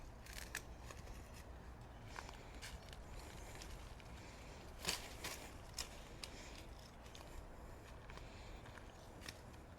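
Pruning shears cut dead blackberry canes on a garden trellis, giving several faint, scattered snips and rustles of woody stems, one crisper cut near the middle, all quiet and without speech.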